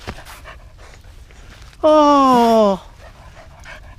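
A white West Highland terrier pants quickly and softly close by, while a person gives one loud, drawn-out exclamation partway through.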